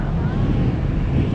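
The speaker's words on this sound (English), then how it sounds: "Good thing it's got a nice wind on it." Strong wind buffets the microphone while paddling at sea off Jaws, a constant loud roar with low rumble and no pauses.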